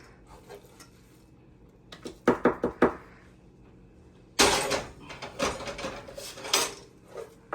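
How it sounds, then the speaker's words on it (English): A heavy cooking pan is handled with a run of sharp metallic knocks and clanks, then louder scraping and rattling of cookware close by. "Pan is fucking heavy."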